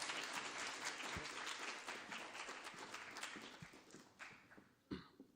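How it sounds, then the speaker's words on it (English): An audience at a university student government vice presidential debate applauds the candidates, a dense wash of many hands clapping that thins toward the end, with a few sharper claps near the close. "Can we get a big round of applause for both Austin and Mohammed?"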